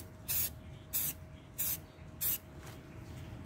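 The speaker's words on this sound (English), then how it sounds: "less chances of moving it when spraying" Arctic camo paint is sprayed through a stencil in four short, evenly spaced aerosol bursts, each a loud close hiss separated by brief pauses.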